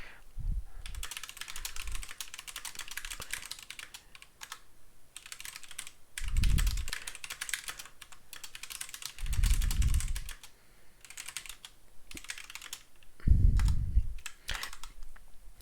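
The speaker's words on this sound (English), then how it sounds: "My typing is atrocious." A computer keyboard is typed on steadily and close by, with fast, light, uneven keystrokes over a quiet room. A few soft low thumps break in now and then.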